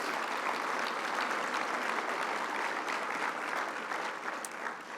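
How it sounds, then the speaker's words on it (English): A large audience applauds at Irving's 2017 State of the City address, dense sustained clapping filling the room, close and loud, slowly easing toward the end. "just take another round of applause for all that you've done to help us this year"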